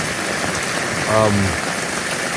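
Heavy monsoon rain drumming on an RV roof, a dense constant hiss of close, loud downpour, with a short tonal sound briefly rising over it.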